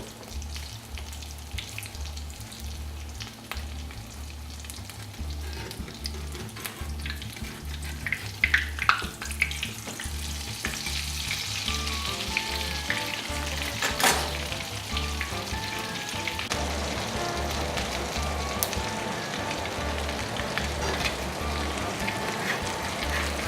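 Emu egg latkes fry steadily in a pan, a continuous crackling sizzle with low bubbling underneath and a few sharper spatters, nearby and moderately loud, with no talking.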